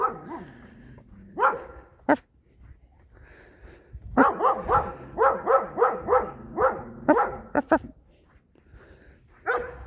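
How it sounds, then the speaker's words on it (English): A neighbour's dog across the street barks repeatedly on a snowy winter day, a few isolated barks at first, then a rapid run of loud, close barks, with people talking between them. "The dog always barks his head off at us."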